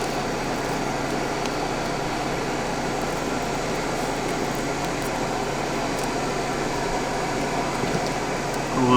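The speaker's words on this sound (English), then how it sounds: "I got the air conditioner going." An RV air conditioner runs during a rooftop tank vent repair, giving a loud, steady whir and hum that never changes and carries no speech.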